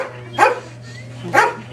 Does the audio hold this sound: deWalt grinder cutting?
no